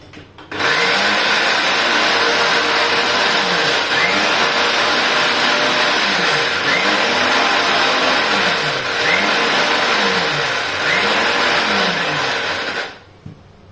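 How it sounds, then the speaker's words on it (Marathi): A kitchen mixer grinder chops onion for a Khandeshi-style chana masala, roaring loud and steady with a rhythmic pulsing churn for about twelve seconds before cutting off. "हे पण मिक्सरला बारीक करून घेऊ आपण"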